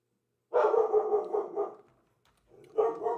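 Two dogs bark in the background in two bursts, a longer run of barks followed by a short pause and then more barking, moderately loud and distinct.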